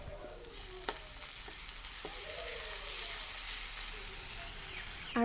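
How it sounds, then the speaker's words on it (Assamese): Ginger-garlic paste sizzles and fries steadily in hot oil with browned onions, a continuous close crackle with a few stirring knocks and scrapes, no talking. "পিঁয়াজখিনি প্ৰায় ৰঙচুৱা হৈ গৈছে, আৰু এই সময়তে মই ইয়াত আদা আৰু নহৰু পেষ্টটো দি দিছোঁ।"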